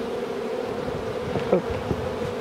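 A continuous low buzzing hum of many honeybees around a hive holding capped honey, with one bee passing close by briefly louder.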